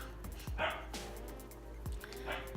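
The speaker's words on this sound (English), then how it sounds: "our new husky is barking" A husky barks a few times indoors from a crate, short yelping barks separated by pauses, moderately close but not very loud.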